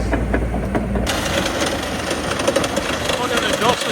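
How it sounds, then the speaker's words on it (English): A wood chipper at a timber harvest spools up, its engine hum jumping to a fuller, busier drone about a second in and holding steady close by. "I'm spooling the chipper up now"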